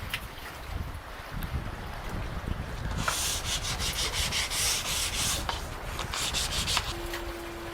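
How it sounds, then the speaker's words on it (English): Walnut bench pieces being sanded: a steady abrasive rubbing that builds louder after a few seconds, with repeated strokes and a continuous scratchy texture, close to the microphone and without talk. "I think sanding is next."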